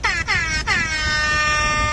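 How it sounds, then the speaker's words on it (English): Loud blasts from a Rap Air Horn phone app: three quick stuttering toots followed by a long sustained blare, brassy and close, played during a sailing race livestream. "It's called Ham Horn or Rap Air Horn. It's a good app, good for making noises such as this."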